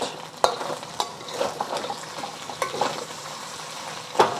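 Pork belly fries and crisps in a hot wok, a steady close sizzle of fat with sharp spatters and pops and occasional scrapes of stirring, no voices.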